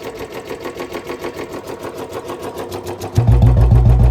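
A second-hand Royal Enfield Bullet Standard 350 single-cylinder engine idles nearby with a steady, fast mechanical thump, then grows abruptly louder and deeper near the end.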